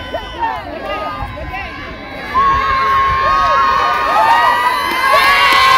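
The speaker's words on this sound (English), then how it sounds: "Crowd is cheering." Spectators at a women's contact 8s championship game cheer, whoop and shout at the final whistle, loud and sustained, with high children's voices and excited chatter swelling in the second half.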